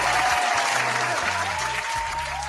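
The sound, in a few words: applause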